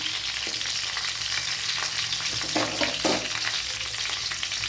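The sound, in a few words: curry leaves and chilies frying in oil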